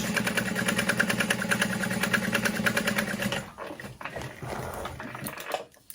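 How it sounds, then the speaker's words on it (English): A sewing machine basting handbag pattern pieces together near the edge, its steady rapid needle chatter running close for a few seconds before it stops and gives way to softer handling sounds. "I am going to baste those pieces together just really close to the edge."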